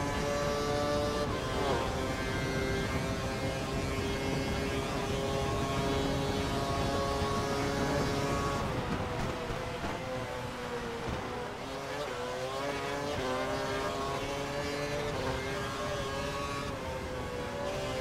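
Race car engines in F1 2012, a steady high-pitched whine holding for several seconds, then shifting pitch up and down as the cars brake and accelerate through corners, continuous and close with no pauses.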